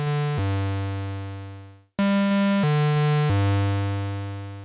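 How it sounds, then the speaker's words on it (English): Minimoog and Moog One bass patch with a third oscillator layered in, a few sustained synth bass notes with bright buzzy harmonics, one held note fading to silence before new notes come in loud and close. "same tuning, and then I've added oscillator 3, which sounds like this."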